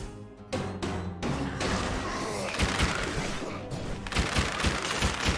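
Rapid, dense gunfire in the Dead Cells video game, a steady barrage of sharp shots and thumping impacts that starts after a couple of isolated bursts and stays loud throughout.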